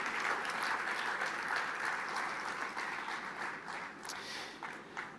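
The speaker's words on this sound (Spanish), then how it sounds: "Fuerte ese aplauso de alabanza al Señor" A church congregation applauds in praise of the Lord, a dense, sustained wash of clapping from a crowd that holds steady for several seconds before easing slightly.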